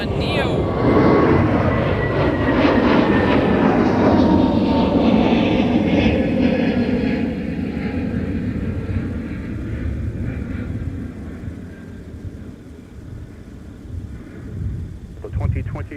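A Delta Airbus A321neo departs Minneapolis–Saint Paul airport bound for Salt Lake City, its jet roar loud at first and then fading into the distance, with wind buffeting the microphone and a voice talking over it.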